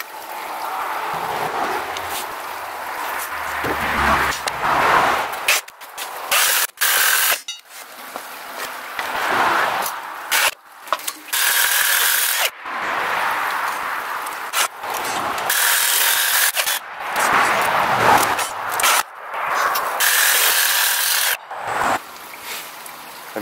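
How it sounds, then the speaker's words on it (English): Steel rebar being cut into lengths with an angle grinder and thin cut-off disc, a loud, sustained abrasive grinding in repeated bursts separated by short pauses. "I'm 10 pieces in, cut through my first 20 foot length of rebar."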